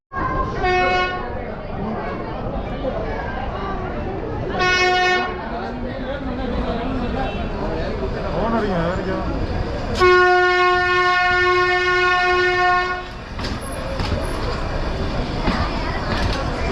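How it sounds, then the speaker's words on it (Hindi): A toy train bound for Coonoor sounds a loud, sustained horn blast in two short toots and then a long held tone, over steady rumbling of the rail cars and background chatter at the station. "अभी उसके बाद ये वाला टॉय ट्रेन ले रहे हैं।"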